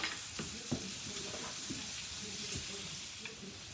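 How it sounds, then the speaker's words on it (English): Chopped onion and butter sizzle steadily in a hot pan while it is deglazed, a continuous soft frying hiss broken by a few light stirring clicks. "deglaze the pan"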